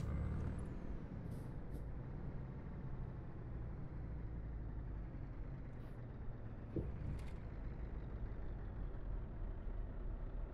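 Truck air brake in Euro Truck Simulator 2, a deep steady engine rumble with brief sharp hisses of air releasing near the start and again around the middle, no talking.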